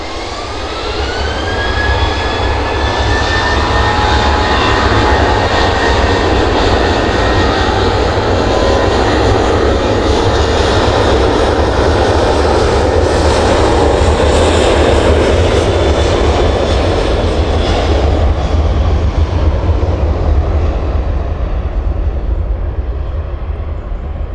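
Aircraft engine at an airport throttling up to a loud, sustained roar with a rising whine, holding strong and close for over twenty seconds before easing slightly at the end.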